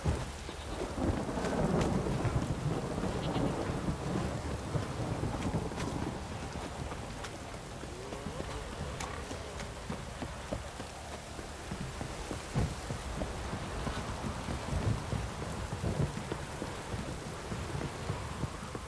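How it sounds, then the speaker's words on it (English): Thunder rumbles over a heavy, steady downpour in The Witcher 3, the storm loudest early on and then settling into constant rain hiss. "Proper downpour this is."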